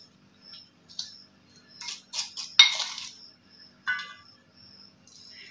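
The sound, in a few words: spoonfuls of salt added to beef with a clinking spoon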